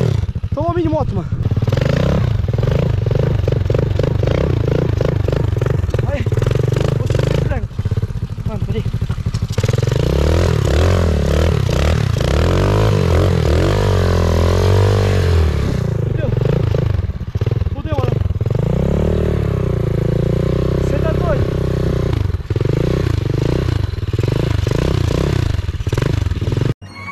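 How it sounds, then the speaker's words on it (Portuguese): A mini motorcycle engine runs loud and close, revving up and down with a buzzing, clattering tone that rises and falls throughout, while people talk over it. "Tomou a mini moto, mano."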